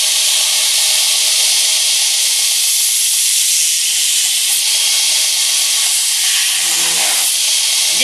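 Belt grinder grinding a bevel into a somewhat worn blade with coolant running, a steady loud broadband hiss throughout with slight chatter from the belt binding and a brief dip and change in tone near the end.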